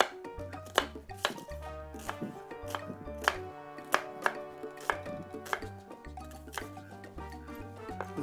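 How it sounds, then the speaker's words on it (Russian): A knife chops red onions into pieces on a board in a home kitchen, a steady run of sharp, close cuts that continues throughout, with a low musical backing underneath and no speech. "нарезаем кусочками"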